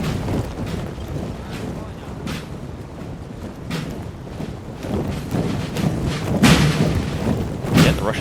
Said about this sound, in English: Artillery is absolutely pounding these poor Russians.